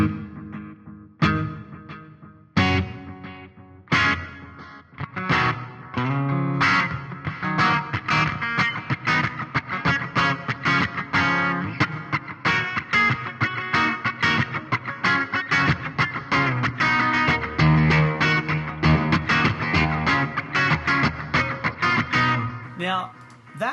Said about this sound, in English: that delay is now going into a reverb as well. So every one of those repeats is going into the reverb